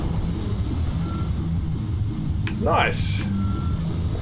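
A dump truck in the Construction Simulator video game backs up over a low engine rumble. Its reversing beeps sound steady and fairly faint, and a voice speaks briefly over them.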